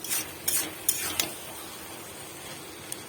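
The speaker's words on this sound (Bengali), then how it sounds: "নারকেল কোড়াটা দিয়ে নেড়ে ছেড়ে" Grated coconut is stirred into raw papaya curry in a pan: a few sharp scrapes and clinks of a spoon against the pan come near the start, then fade into a soft sizzle with one last faint tap.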